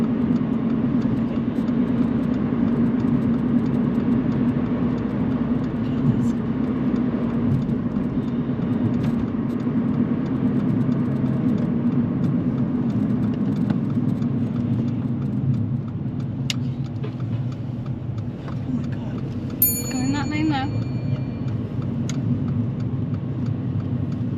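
Heard from inside, a car cruises along a dual carriageway during a driving lesson, giving a steady, loud low rumble of engine and road noise that eases slightly near the end, with a faint high beep.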